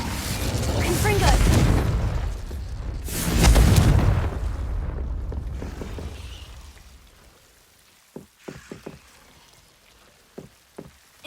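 A Confringo explosive curse in Hogwarts Legacy: two heavy, rumbling blasts swell and fade over several seconds, followed by a quieter stretch of scattered clicks and small crackles.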